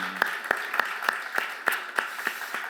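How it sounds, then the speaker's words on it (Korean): Church congregation clapping in a slow, even rhythm, about nine distinct claps roughly a third of a second apart, fairly close and clear with no talking. "우리 하나님께 큰 박수로 영광을 돌립시다"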